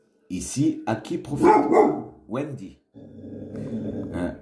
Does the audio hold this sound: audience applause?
no